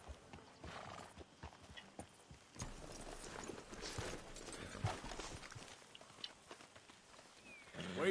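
Horses in the Red Dead Redemption 2 video game walk with a steady clip-clop of hooves amid outdoor ambience, with an occasional whinny.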